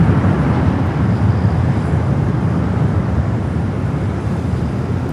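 A Finnair airliner takes off at LAX with a steady, broad, low engine roar, loud and continuous at a fair distance, and no voices.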